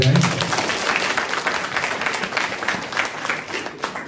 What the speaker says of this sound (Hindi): हम सब एक दूसरे के लिए जोरदार तालियां बजाएं